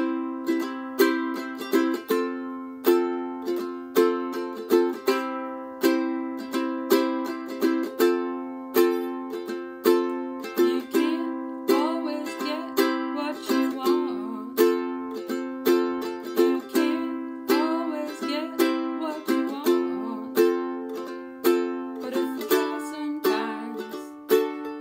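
Acoustic guitar strummed in a steady sixteenth-note pattern, with clear rhythmic chord attacks, close and alone throughout.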